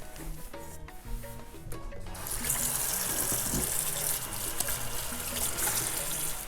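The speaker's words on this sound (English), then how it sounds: "then we're going to go wash our hands because it's important to have clean hands while you cook" Tap water runs steadily at a sink as hands are washed in a home kitchen before cooking, a broad continuous splash that swells louder after a quieter opening with faint background music.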